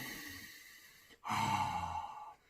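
One deep, slow exhale from a breathing demonstration, a close, airy sigh that swells after a brief hush and fades out over about a second.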